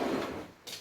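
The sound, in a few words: door being opened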